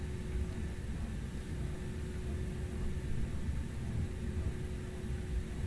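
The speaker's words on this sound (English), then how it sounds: "Cool thing now is we can hear the PTU" Power transfer unit of an Airbus A320neo in X-Plane 12: a steady mechanical whine holding a constant pitch over a broad cabin and engine hiss, continuous and unchanging throughout.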